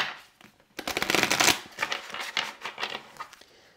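Tarot advice cards are shuffled by hand, a close, crisp run of riffling and flicking that starts abruptly and continues in uneven bursts before tapering off.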